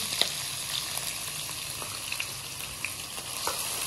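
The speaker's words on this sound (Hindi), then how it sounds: "घी डाल रहे हैं प्याज शामिल करते हैं" Onions frying in ghee in a pan, a steady close crackling sizzle with scattered small pops, no voices.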